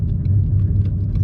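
A Ford Mustang GT with paddle shifters drives along, its engine a steady, close low drone with a rumbling undertone that holds level through the short stretch.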